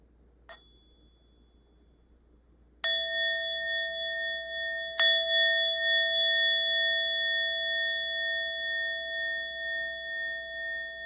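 Meditation bell struck twice after a faint tap, each strike leaving a clear, sustained ringing tone that slowly decays and overlaps in a quiet room.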